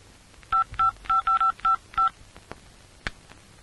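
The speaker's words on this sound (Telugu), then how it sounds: "ఇన్స్పెక్టర్ గారికి ఫోన్ చెయ్యి" A rapid series of seven telephone keypad tones beeps in quick succession, followed by a couple of faint clicks and a short click-like burst.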